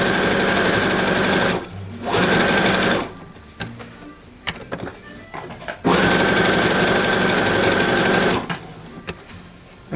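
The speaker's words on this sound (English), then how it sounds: "I'm just going to sew this piece of denim onto this polka dot fabric" A sewing machine stitches denim onto polka dot fabric at a long stitch length, running in fast loud bursts separated by quiet gaps filled with small handling clicks and rustles.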